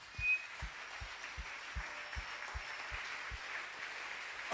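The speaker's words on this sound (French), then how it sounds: "Je vous prie d'acclamer Jésus." A church congregation applauds Jesus in rhythmic unison, steady claps about every 0.4 seconds, moderately loud and close over a dense crowd hum.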